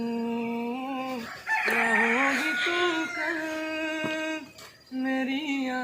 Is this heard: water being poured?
no